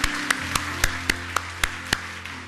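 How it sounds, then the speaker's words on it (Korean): A church congregation claps in unison during a Sunday service, eight sharp, evenly spaced claps at a brisk beat over a sustained low musical hum. "우리 한번 하나님께 감사와 영광의 박수를 드리겠습니다."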